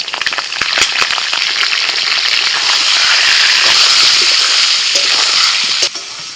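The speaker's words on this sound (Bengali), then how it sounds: "প্রথমে আলু ভেজে নেব।" Large cut potato pieces fry in hot oil for village-style cooking, a loud, continuous close sizzle broken by scattered crackles and stirring clicks before it drops off at the end.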